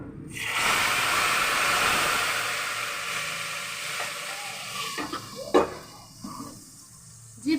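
A baghar tempering for pakora kadhi bursts into loud, hissing sizzle as hot oil hits the pot, then fades to a softer crackle with a few clinks and stirring sounds.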